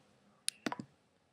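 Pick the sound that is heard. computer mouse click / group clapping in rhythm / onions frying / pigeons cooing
computer mouse click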